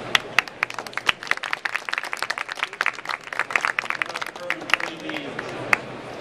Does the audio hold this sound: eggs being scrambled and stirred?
no